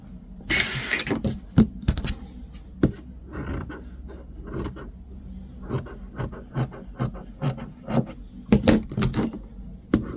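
Scissors cutting thin silk fabric, a series of short crisp snips and rasping slides repeated close up over about ten seconds, with no talking.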